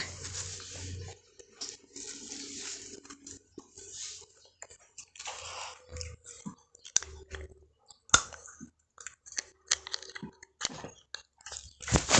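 Someone eating a daily meal, with close, wet chewing and crunchy bites coming in irregular bursts, small clicks and mouth sounds between them, and faint speech here and there.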